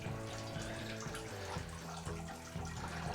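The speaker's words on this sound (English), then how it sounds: "so we just get 4 more dispersed streams of water" Several dispersed streams of water fall from the holes of a sparge plate during a home brewing experiment, making a soft, steady splashing patter that stays faint and constant with a low hum underneath.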